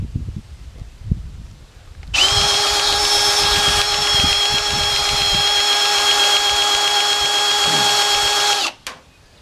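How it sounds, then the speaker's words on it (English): A power drill bores steadily at a sawmill, a loud sustained whine running for about six seconds after some quiet rustling, then cutting off abruptly, with no talking. "maybe I can put it on hammer drill."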